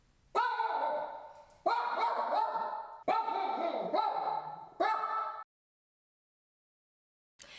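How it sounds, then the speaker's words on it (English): Small dog barking in four loud, close, rapid bursts of yapping, each a cluster of sharp barks, followed by silence and a brief final sound at the end; no talking. "But my God, the barking."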